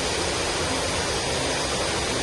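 The waterfall on Cascadilla Gorge Trail in Ithaca roars as a dense, unbroken rush of falling water, loud and close, holding steady without any change for two seconds.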